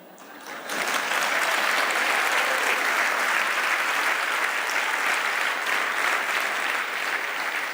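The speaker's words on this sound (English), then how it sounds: "thank you for the applause" An audience at a TED-style talk on rhetoric breaks into loud, sustained applause that swells within the first second and holds dense and steady for several seconds.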